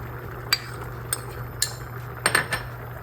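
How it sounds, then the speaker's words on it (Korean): Prepared ingredients drop into a pot of beef rib stew. Metal clinks and clatters sharply a few times, spaced out over a constant low hum, and no one speaks. "잘 끓고 있으니까 지금 제가 준비한 재료들을 다 넣겠습니다"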